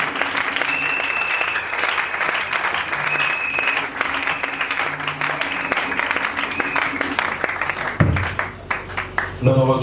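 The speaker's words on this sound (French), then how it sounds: "Acclamons encore très fort." A church congregation at a French-language worship gathering applauds loudly and continuously, a dense wash of many hands clapping at close range for about ten seconds, with voices mixed in.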